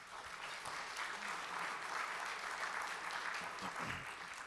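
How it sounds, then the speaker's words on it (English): Audience applause at a Rotary club meeting: steady, dense clapping from a room of people that holds evenly for several seconds, heard from a moderate distance and fairly soft. "Let's give them a round of applause."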